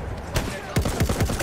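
Gunfire in the video game Battlefield 1 comes as a few short, sharp shots followed by a rapid burst of reports, loud and close, with a voice faintly in the mix.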